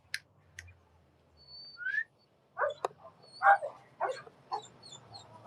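A dog whimpers and gives short whiny yelps while wanting to play on a quiet evening in Paraguay, with sharp high clicks and a faint whistle around it, the sounds scattered and close.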